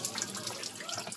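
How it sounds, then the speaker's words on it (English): A KitchenAid Whirlpool dishwasher's wash motor runs with its spray arms rotating inside, giving a steady watery hiss and splash like running water, continuous and close throughout. "we can definitely hear our wash motor running and rotating the spray arms inside of there"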